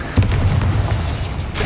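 A Bombarda spell explosion in the Hogwarts Legacy video game, a loud close boom with a rumbling low tail that fades over a second and a half.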